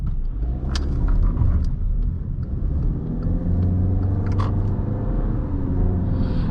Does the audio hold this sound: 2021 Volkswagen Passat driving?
yes